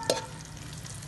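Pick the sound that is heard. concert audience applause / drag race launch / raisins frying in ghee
raisins frying in ghee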